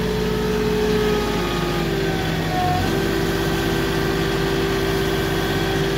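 A truck-mounted Moffett forklift engine idles steadily and close throughout, a continuous low rumble with a brief shift midway as the stabilizers are set down, no voices.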